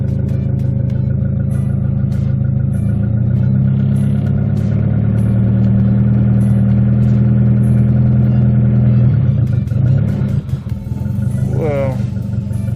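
A turbocharged Honda Civic with a D16Z6 engine running at a steady idle, then revving up slowly as the throttle is pressed, with a faint ticking throughout and a whooshing rise near the end; people talk over it.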